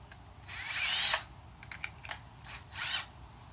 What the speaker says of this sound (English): just use a bigger drill bit